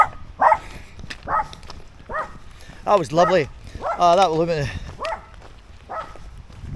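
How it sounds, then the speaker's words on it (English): A dog barks and yips in short, close bursts with whimpering howls between them, at a hotel stop during a hike on the Cape Wrath Trail, while a person talks over the noise. "Who are you barking at?"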